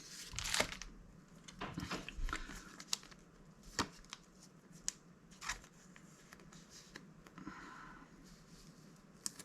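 A Magic: The Gathering trading card slides into a plastic card sleeve with soft rustles, brief scrapes and crinkles, close and quiet, with small handling taps between them.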